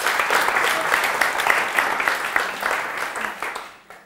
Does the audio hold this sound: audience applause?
yes